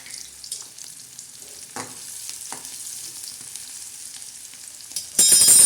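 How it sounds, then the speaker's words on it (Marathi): Cumin seeds and garlic crackling and sizzling in hot oil over reddish fried onions for a tadka, a steady close frying hiss that swells louder at the end as more goes into the pan. "आणि त्याच्यामध्ये आता आपण टाकणार आहोत तडक्या देण्यासाठी जिरे आणि लसूण"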